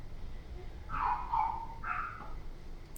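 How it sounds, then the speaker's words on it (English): Several dogs bark on the Gold Coast, a pair of short, fairly faint barking bursts some distance away against a low background hum, with no one talking. "I do not know whose dogs are barking."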